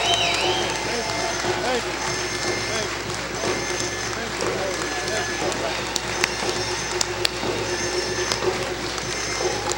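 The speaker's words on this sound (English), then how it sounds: "Let's give Brother Kwame Ture a warm round of applause" A large audience applauds steadily to welcome Kwame Ture at a gathering, a dense, continuous wash of clapping that holds for the full stretch, with voices mixed in beneath.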